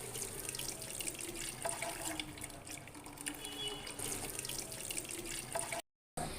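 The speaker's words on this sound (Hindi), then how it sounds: "अब मैं बैटर को स्ट्रेनर की मदद से छान लूंगी।" A thick yogurt and gram flour batter is strained through a kitchen strainer, giving a continuous wet trickling and sloshing that stays steady and close for several seconds before a brief cut to silence.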